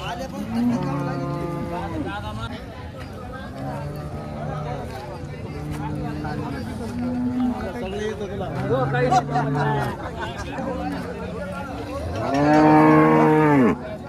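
Cows moo repeatedly at a cattle market in Kopargaon, long low calls one after another with a loud close bellow near the end, over a murmur of people talking.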